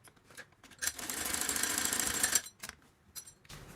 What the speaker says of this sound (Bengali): এখন আমি এই ফাঁকা অংশটা সেলাই দিয়ে নিব